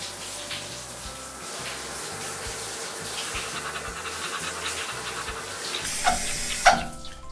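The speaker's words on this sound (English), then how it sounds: "One final rinse and we're done with the bath portion." Water runs steadily from a tap while toy puppies are rinsed in a play bath, a continuous close splashing hiss with a couple of brief clinks near the end.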